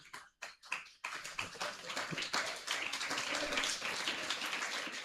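An audience at a convocation ceremony claps, starting with a few separate claps and then building into dense, continuous applause.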